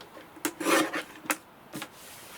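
A paper trimmer cutting strips of paper gives short, close rasping slides, three or four quick swipes with brief pauses between them.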